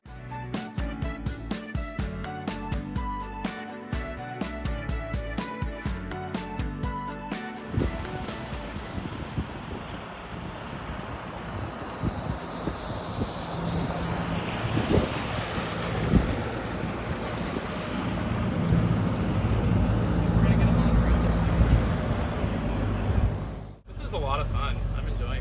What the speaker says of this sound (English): Oh, there's another boat coming.